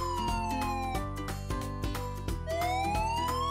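A police motorcycle siren wails downward, then rises again, repeating in long sweeps over a steady beat of background music.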